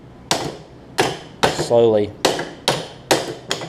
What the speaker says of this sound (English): And I'm just taking a hammer and just